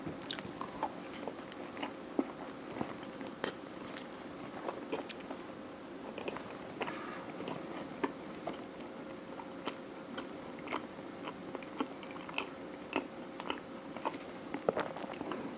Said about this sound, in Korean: 밤 알갱이도 막 씹히는데요